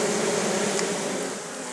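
A low, steady drone of many bees buzzing together close by, continuous and even, with no voices.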